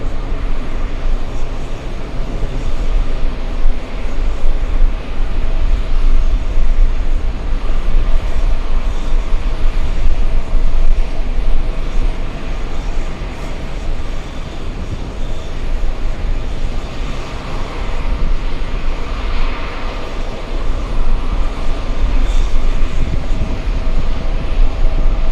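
A jet airliner takes off at JFK airport, a loud, sustained roar of engine noise that holds steady and broad throughout, with no talk over it.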